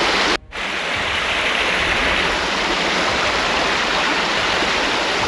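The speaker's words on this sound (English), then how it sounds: "Oh wow, waterfall here." A waterfall on a goldfields walking track, a loud and continuous close rush of falling water that fills the whole clip, with a brief dropout near the start.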